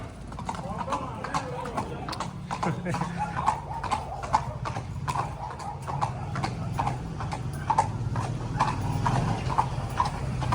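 A horse clip-clops steadily along during a ride, its hooves close and fairly loud in a regular rhythm, with people talking over the hoofbeats throughout.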